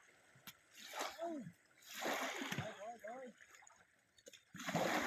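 A female elephant plunges into water, making faint, scattered splashes and sloshing over a few seconds while people talk excitedly nearby.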